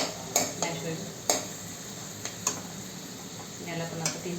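Vegetables for pav bhaji sautéing in a pan, a soft steady sizzle with a few sharp clinks of a spoon against the metal at irregular intervals.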